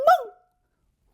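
A single short dog bark, close and clear, sounds in a Korean folktale about a dog and a cat and is followed by silence.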